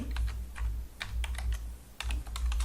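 Code typed on a computer keyboard: quick, close clicking keystrokes in short bursts with brief pauses between them.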